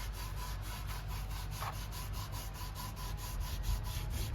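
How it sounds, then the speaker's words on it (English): A van body is worked for rust removal, a steady close rhythmic scraping and rubbing with repeated strokes of roughly even pace, continuous and moderately loud, with no talk. "I'm rust removing."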